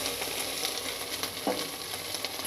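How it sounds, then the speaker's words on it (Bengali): Yardlong beans fry in hot oil, giving a dense, steady sizzle close by, with a faint knock or stir partway through. "তো তেলের মধ্যে আমি আগে বরবটিগুলোকে ভেজে নেব।"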